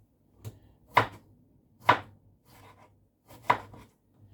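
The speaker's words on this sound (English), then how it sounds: "let's cut up tomatoes so as small as possible." Knife chopping tomatoes finely on a board, a few sharp separate chops, close and clear, with quiet pauses between.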